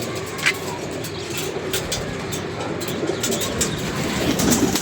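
A loft of pigeons feeding on grain and drinking water, with a steady low murmur of cooing, soft pecking and scratching, and occasional brief flutters close by, no voices.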